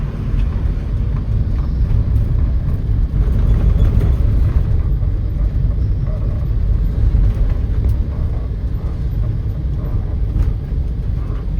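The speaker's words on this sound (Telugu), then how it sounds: "ఈ వెహికల్ చూడండి ఎంత స్లోగా ఎక్కుతుందో" A road vehicle's engine labours slowly up a hill at night, a steady, loud low rumble that holds for the whole stretch with no breaks.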